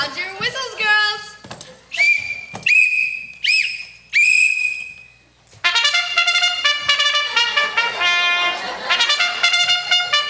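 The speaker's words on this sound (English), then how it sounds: "Sound your whistles" A group of girls blow sharp, shrill whistles, starting with scattered short toots, then several long sustained blasts, then many whistles sounding together in a dense continuous chorus.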